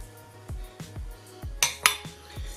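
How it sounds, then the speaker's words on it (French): A utensil knocks and scrapes in a bowl while cookie dough for jam-filled sablés is mixed after adding an egg, giving a series of short clinks roughly every half second, close and clear. "Maintenant, je rajoute mon œuf"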